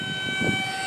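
A small FF-35 plane passes by, its engine a steady, fairly loud drone with a brief swell in the middle as it goes over.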